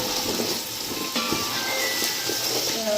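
Carrots and potatoes sauté in a pan, giving off a steady, close sizzle and crackle that holds evenly throughout, with faint clinks from stirring and no voices.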